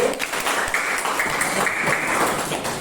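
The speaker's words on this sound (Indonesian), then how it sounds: "Tepuk tangan untuk Danti" Classroom applause for a student named Danti after reciting her pantun, a dense continuous patter of many hands clapping together, steady and fairly loud throughout.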